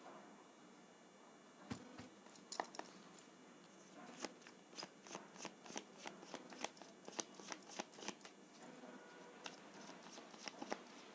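Playing cards shuffled by hand during a tarot-style reading, heard as a run of quick riffling bursts and soft flicks that repeat steadily, close and fairly quiet with no talking.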